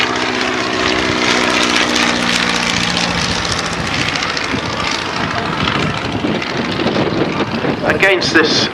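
A propeller aircraft with a radial engine flies a display at Old Warden airfield, a loud, continuous engine drone with a throbbing hum, joined by a commentator's voice.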